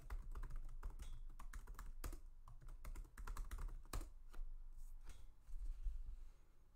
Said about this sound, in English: Alright, so I'll just type in my username.